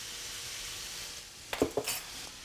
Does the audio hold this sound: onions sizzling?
yes